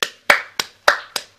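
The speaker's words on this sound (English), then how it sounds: "Let's applaud." Five sharp separate claps from a small group or single person, spaced about a third of a second apart, close and fairly loud with no talk, joining a 7 o'clock round of applause.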